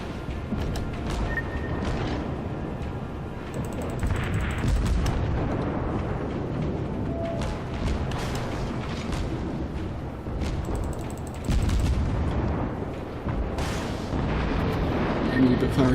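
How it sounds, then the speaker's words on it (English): Heavy naval gunfire from warship broadsides in World of Warships, a dense, continuous rumble of booming cannon blasts and explosions over roaring battle noise for the whole stretch, with a voice talking underneath. "And now we can get our broadsides going."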